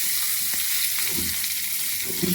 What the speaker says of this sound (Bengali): চুলায় আগের থেকে কড়াই দিয়ে আমি তেলটা গরম করে নিয়েছি, এখন মাছটা ভেজে নিব